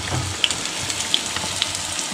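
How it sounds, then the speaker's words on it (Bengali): Bora fritters fry in hot oil in a homestay kitchen in Darjeeling, giving a loud, steady close-up sizzle with scattered sharp pops and crackles throughout. "এই বড়া ভাজা হচ্ছে এখন"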